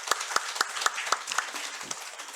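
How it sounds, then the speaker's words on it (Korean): A church congregation at a Sunday Easter service claps to congratulate newly baptized members, a short run of sharp, evenly spaced claps that thins out and fades, with no talk. "우리 박수로 다시 한번 축하하겠습니다."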